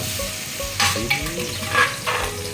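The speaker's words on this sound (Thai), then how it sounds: "ปุ๊บน้ำมันเดือดก็เอากระเทียมลงห" Garlic drops into boiling oil for a seafood rice soup and fries with a close, bright sizzle, crackling and spitting as it is stirred in the pan.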